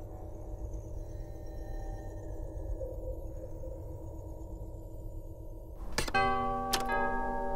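A doorbell in the video game LEGO Star Wars The Skywalker Saga gives two ringing chime strikes near the end, clear and fairly loud over a steady low game-ambience hum.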